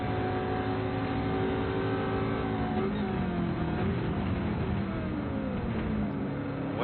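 V8 Supercars engines in a racing video game, a steady loud roar of several cars whose pitch sweeps up and down as they accelerate and shift, with no voices over it.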